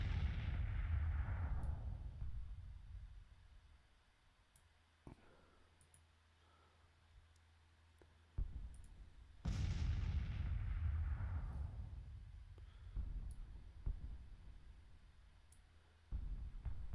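Artillery and massed gunfire from Grand Tactician battle troops: two big booming barrages decaying into rumble, with scattered sharp cracks and clicks between, fairly distant and faint overall.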